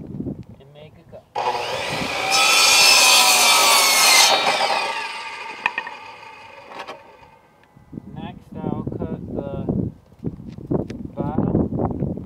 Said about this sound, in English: Now I will take and put it on the miter saw.